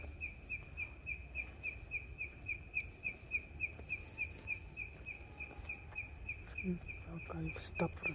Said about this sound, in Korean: 풀벌레 소리, 개구리 소리.